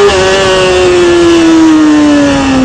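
A motorcycle engine held at high revs with the throttle open for a wheelie, loud and close, one sustained droning tone that sags slightly in pitch over a few seconds.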